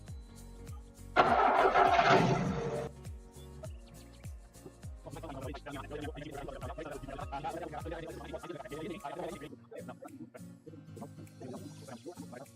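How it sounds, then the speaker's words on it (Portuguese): A car engine cranks with a loud, harsh burst of noise, then catches and settles into a steady idle that holds for several seconds before cutting out, with faint voices nearby. "A gente vai funcionar o carro agora"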